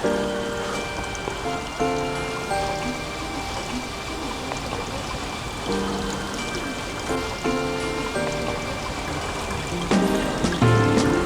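Clear water flowing steadily at a temple in Kyoto, a continuous splashing trickle and pour close by, with faint tonal sounds over it and no talking.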